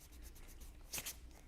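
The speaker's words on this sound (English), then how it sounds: "So let's erase this again." A pencil drawing is being erased, giving a faint, soft rubbing scratch that peaks in two quick, brighter strokes near the end, close by and quiet, with no talk.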